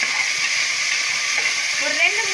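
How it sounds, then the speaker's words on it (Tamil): Chopped tomatoes fry in hot oil for a bone and butter bean tamarind salna, giving a loud, steady, close sizzling hiss, with a faint voice briefly near the end. "ஒரு 2 நிமிஷம் தக்காளி வந்து நல்லா இந்த எண்ணெயில் வந்து வறுபடட்டும்."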